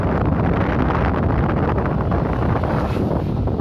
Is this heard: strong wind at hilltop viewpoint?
yes